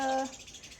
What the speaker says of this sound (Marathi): पक्ष्यांचा छान असा किलबिलाट पण चालू आहे